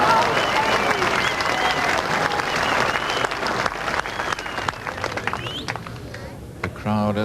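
Crowd applauding at a 1982 indoor bowls semi-final or final, a sustained burst of clapping that thins and fades over several seconds, with a commentator's voice coming in toward the end.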